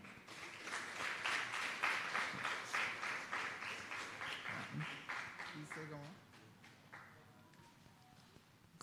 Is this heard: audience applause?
yes